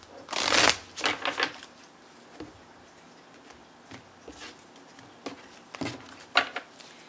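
Earth Wisdom oracle cards are shuffled by hand, with a loud close riffle burst at the start followed by scattered lighter flicks and taps of the deck.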